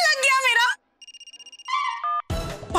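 An incoming call on a phone, a rapid series of short electronic ring pulses followed by a melodic ringtone, with a woman's speech just before and a burst of sound after.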